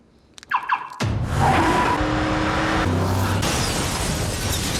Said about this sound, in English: The smart car crashes into the wall of the house, breaking through it and letting the sunlight in.